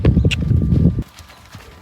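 A school horse trotting, hooves clip-clopping in a quick, even rhythm up close for about a second, then dropping away to a few faint distant steps.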